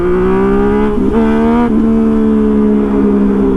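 A loud Yamaha MT-09 motorcycle exhaust drones steadily up close, with a brief rev blip in the middle before settling back to a constant rumble.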